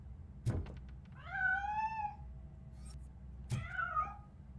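A cat meows twice in the RoboCop: Rogue City video game, a drawn-out, rising and falling meow followed a couple of seconds later by a shorter one, each preceded by a soft thump, over a low ambient hum.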